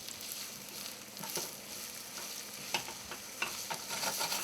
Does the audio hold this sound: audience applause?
no